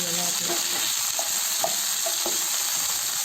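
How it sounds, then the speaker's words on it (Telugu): Ivy gourds sizzle and fry in hot oil in a pan, a steady close crackling hiss broken by light scraping strokes as the pieces are stirred. "దొండకాయలు వేయించుకోవాలి కదా, అవి మాడిపోతాయి"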